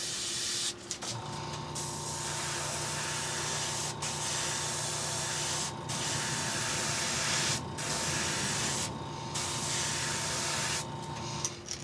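Green paint sprays steadily from an airbrush onto the back of a fishing bait, a continuous close hiss lasting about ten seconds with a few short breaks and a faint steady mechanical hum beneath it.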